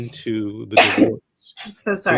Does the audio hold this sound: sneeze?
yes